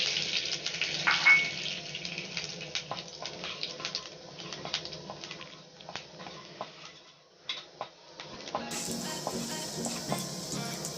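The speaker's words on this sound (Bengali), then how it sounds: "এবার আমি তেলটা গরম তো রয়েছেই, আমি অল্প করে 5 ফোড়নটা দিয়ে দিলাম" Panch phoron five-spice seeds crackle and sizzle in hot oil in a pan for fish curry, a steady soft frying hiss with scattered small pops, close and moderately quiet, with no talking.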